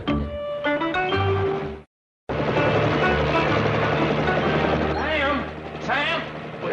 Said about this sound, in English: Howard, that's one of those military helicopters